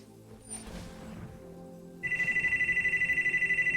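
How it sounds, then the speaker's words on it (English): A telephone rings with a rapid, steady electronic trill that starts suddenly partway through and continues to the end, loud and close over a quiet murmur of background sounds. "Almost as annoying as that phone ringing in people's ears."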